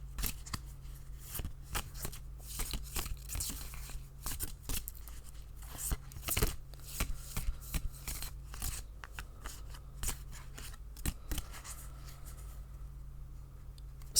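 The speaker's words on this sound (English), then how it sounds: "I shuffle until Spirit asks me to stop." Tarot cards are shuffled repeatedly and close up, a long series of crisp riffling snaps and flicks in an irregular rhythm, with no talking over them.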